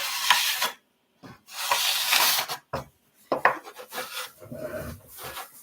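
A small griddle being scraped, heard as close, harsh rasping strokes in bursts separated by short silences, loud and alone without any talk.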